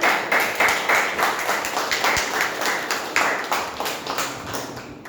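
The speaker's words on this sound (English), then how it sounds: "a huge round of applause for each one" Applause at a club meeting's speech evaluation session, a modest group clapping in uneven pulses with individual sharp claps audible, steady through the clip without speech.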